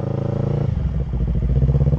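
A small motorcycle ridden along a rough, rocky trail road, its engine droning with a steady pulsing rhythm while the bike clatters and rattles over the bumps, close and loud.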